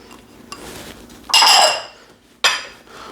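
Chopped peppers and onions tipped into a slow cooker for cubed steak with gravy, giving two sharp bursts of clattering and clinking against the crock, one longer and one brief, with quiet pauses between.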